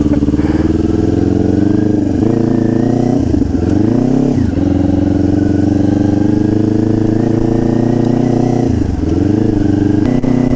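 Kawasaki Ninja 400 (2021) motorcycle engine droning loud and close on an expressway, holding a steady pitch with a few quick rev swings and gear-change dips, continuous for the whole stretch without talk.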